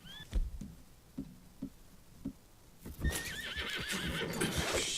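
A horse in the Red Dead Redemption 2 video game whinnies loudly over a run of hollow hoof clip-clops, with the neigh rising and wavering near the end.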